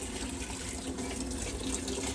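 Tap water runs steadily into a cooking pot while preparing Libyan macaroni mbakbaka, a continuous close splashing stream with no talk over it.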